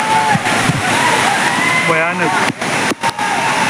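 Barki Waterfall in Kolhapur, Maharashtra, roars continuously under heavy monsoon rain, a dense, loud wash of falling water close by, with someone speaking over it.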